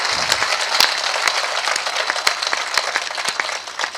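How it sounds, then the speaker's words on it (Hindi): Loud, sustained audience applause at a Hindi poetry recitation gathering, with dense clapping and several sharp individual claps standing out over the crowd throughout. "तो एक बार जोरदार तालियां उठाइए सब लोग जाग के।"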